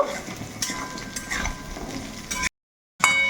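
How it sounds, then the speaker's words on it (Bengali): Diced potatoes frying in a pan with a steady sizzle and the scrape and clink of a spatula stirring them, close up, cut by a short silence before the frying resumes. "আলুগুলো দেওয়ার পরে এবারে আলুগুলো একটু ভালো করে সময় ধরে কষিয়ে নেব"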